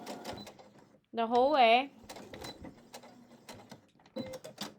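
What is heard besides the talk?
sewing machine stitching quilt fabric with back stitch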